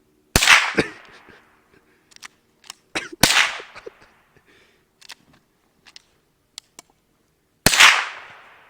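A .22 LR gun fires three sharp, loud cracks a few seconds apart, each trailing a brief echo, with fainter clicks and small knocks scattered between shots.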